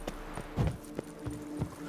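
Horse hooves clip-clop in The Witcher 3 near an abandoned castle, a faint rider passing with about five soft, evenly spaced thuds under low ambient game sound.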